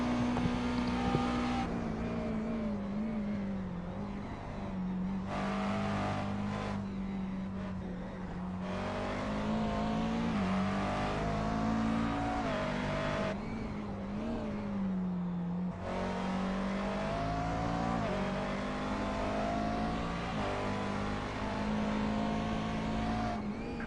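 Race cars lapping the Indy oval in a Grand Am racing video game, a steady high engine drone holding pitch with brief dips and swells as cars pass, loud and continuous without talk.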